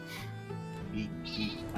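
A sheep bleats in the video game Final Fantasy XIV, several short wavering cries in quick succession, close and clear.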